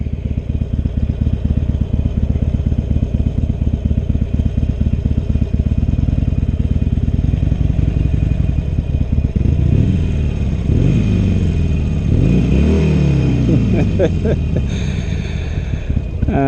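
A Harley-Davidson Iron 883 motorcycle engine idles close by with a loud, steady, lumpy rumble, then revs in rising and falling surges near the end.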